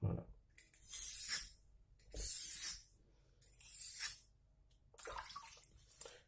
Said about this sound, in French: N'hésitez pas à mouiller la pierre.